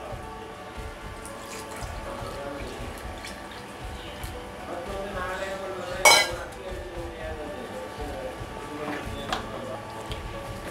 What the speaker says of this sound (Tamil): கட்டி இல்லாமல் நல்லா கிளறிக்கிட்டே இருங்க